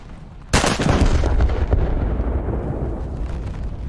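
A heavy naval gun fired from an enemy ship in a warship video game booms out sharply once, close and loud, then a long rumbling tail of blast and battle noise trails off.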